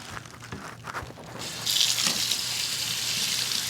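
Tap water running over a bunch of cilantro in a sink, starting with a few faint handling noises before the stream swells into a steady close splashing rush.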